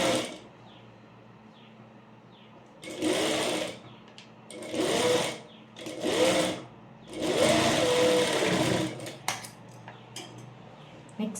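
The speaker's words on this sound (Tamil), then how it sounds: "இப்போ ஃபுல்லாக மடித்து ஸ்டிச் பண்ணிடலாம்." A sewing machine stitches folded fabric on a jabla, a baby's frock, at a tailoring lesson, running in four distinct bursts of whirring with quiet gaps between them, close and fairly loud.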